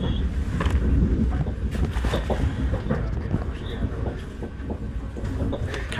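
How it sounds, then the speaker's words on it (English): A train runs at night in Amsterdam, a loud, steady rumble with rhythmic clicking and rattling of the carriages throughout, heard from on board or close by. "train going the right way now."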